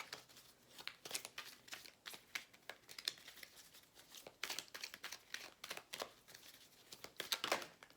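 Tarot cards are shuffled by hand in a quiet room, a faint, uneven run of soft riffles and papery crinkling bursts with no talk.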